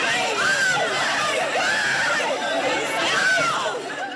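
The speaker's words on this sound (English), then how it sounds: "Look at this crush of shoppers in a Chattanooga Victoria's Secret pink store." Dense crowd of Black Friday shoppers packed inside a Victoria's Secret Pink store in Chattanooga, a steady loud babble of overlapping voices with occasional raised shouts throughout.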